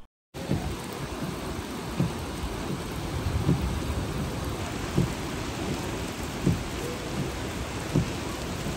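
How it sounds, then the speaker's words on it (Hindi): Heavy rain pours down steadily in Medina in a dense, constant hiss, with faint low rumbles rising now and then beneath the downpour. "साथ में बारिश की आवाज़ की रिमझिम भी सुन सकते हैं"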